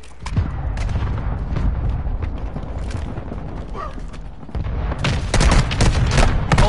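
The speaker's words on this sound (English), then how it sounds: "Mortar strike inbound." Mortar strike explosions in a PlayStation 4 shooter game, a loud, dense barrage of booms and rumbling blasts that swells stronger toward the end.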